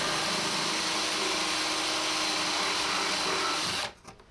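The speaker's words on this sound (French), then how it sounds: "je peux démarrer mon trou tranquillement en étant sûr d'être centré" A drill starts a hole through a wooden plank while a wood-and-metal bench is built. The steady, loud, close whirring runs without a break and then cuts off abruptly near the end.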